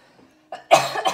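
A single person gives a few short, sharp coughs up close indoors, after a faint throat sound and a brief pause.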